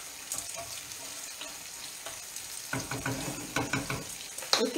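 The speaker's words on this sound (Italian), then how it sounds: "la nostra melanzana è quasi pronta facciamo soffriggere anche qua" Eggplant sautéing in a pan for paccheri with tuna, a soft steady sizzle that grows busier halfway through, with scraping stirs and a few clinks near the end.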